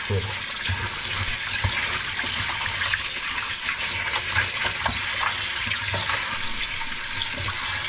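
Tap water gushing steadily into a sink as fish is rinsed under it, close and constant, with faint voices underneath.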